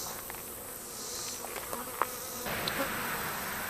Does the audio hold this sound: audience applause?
no